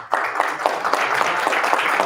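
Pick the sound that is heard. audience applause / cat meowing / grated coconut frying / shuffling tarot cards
audience applause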